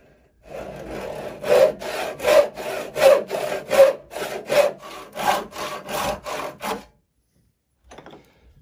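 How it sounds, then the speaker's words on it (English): Hand saw cutting through a wooden Christmas tree decoration clamped in a vise, about a dozen steady rasping back-and-forth strokes close up, then stopping, with a faint clatter after. "So now we can put it back in the vise and cut it off."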